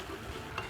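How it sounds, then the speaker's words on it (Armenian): Beef or veal bones frying in a pan as the base for a demi-glace, giving a brief, steady close-up sizzle with light crackle and no talking. "Աշխատում ենք շատ չտապակել, որովհետեւ ոսկորներին էլ հանգիստ չեն տալիս։"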